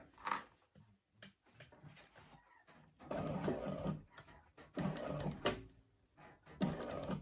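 An electric sewing machine runs in short bursts as it stitches a seam on a crossbody strap, with a fast rapid whir, some mechanical ticks and pauses between runs, heard close up and without talk.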